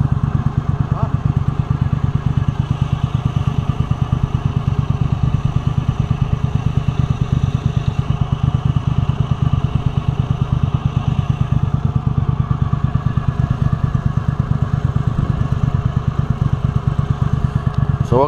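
A Mudbuddy Sport V 44hp boat motor runs steadily on the Wisconsin River, a loud, close, throbbing engine drone with a fast pulsing chug that holds throughout.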